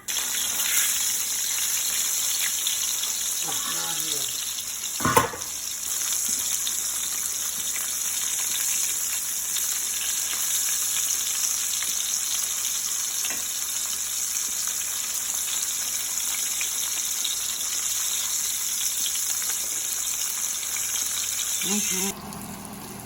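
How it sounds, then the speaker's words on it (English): Chicken cutlets fry in a pan with a steady, loud hiss and crackle of hot oil that runs unbroken throughout, with a brief clatter near the start and a voice speaking faintly in the background. "I'm frying up the last of them"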